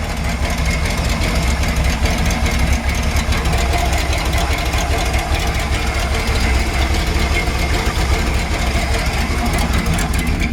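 A 1965 Chevrolet C10 pickup engine idles steadily up close, a continuous low rumble with an even, slightly knocking pulse throughout and no voices.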